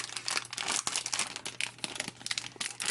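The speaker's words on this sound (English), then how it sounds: "Sorry for all the crinkling" Close crinkling of plastic packaging around rolls of washi tape, a continuous dense rustle with frequent sharp crackles, heard on its own with no talking.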